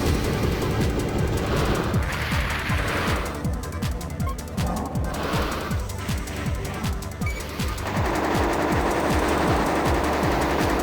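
Rapid machine gun fire from a mech's weapon in the Armored Core video game, loud sustained bursts of fast repeated shots over a dense game soundscape, with brief lulls between volleys.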